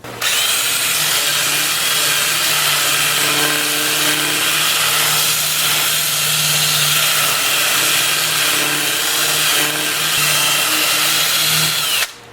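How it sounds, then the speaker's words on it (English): A wood lathe spins in reverse at about 250 RPM while a 2-inch sanding disc works a large maple piece. A loud, steady whirring grind holds close and constant, then cuts off at the end. "I'll have the lathe spinning in reverse for that at about 250 RPM"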